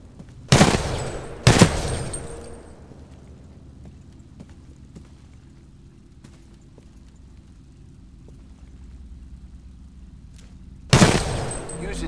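Weapon fire in the video game Titanfall 2: two loud, sharp blasts close together near the start, then a long quiet stretch of low ambient rumble before a third blast near the end.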